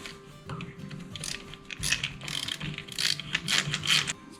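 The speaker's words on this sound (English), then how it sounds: "Let's get your 2 first screws off." Small metallic clicks and ratcheting from a screwdriver or ratchet loosening screws on the drain pump of a Kenmore Elite front-load washer, close and fairly quiet, with scattered taps and scrapes.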